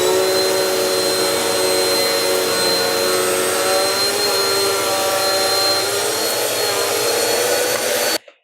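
A Shark Navigator Lift Away upright vacuum cleaner runs with a loud, steady motor whine and airy rush, close and constant, cutting off abruptly at the end.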